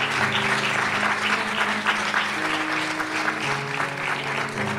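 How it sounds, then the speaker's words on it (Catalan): Sustained audience applause at a Pride Day event in Reus, steady and fairly dense for the whole stretch, with a musical tone underneath. "un altre aplaudiment, que se'l mereixen, i ben fort"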